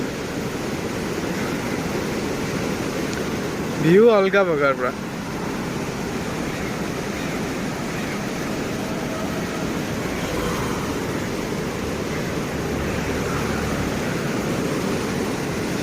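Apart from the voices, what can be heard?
rushing water flowing strongly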